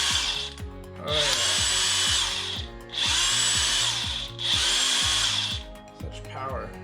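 A DeWalt 1/2-inch cordless impact driver with an 8 amp-hour battery fires in three long, loud bursts of rapid hammering whine, each separated by a short pause, close up with no one talking.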